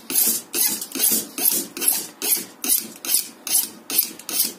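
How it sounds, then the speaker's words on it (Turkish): A hand file rasps across the cut tip of a nail to smooth it, making about ten rhythmic back-and-forth strokes, close and evenly spaced. "ağzında düzleyeyim ki o hareketli parçada herhangi bir aşınmaya sebebiyet vermesin diye"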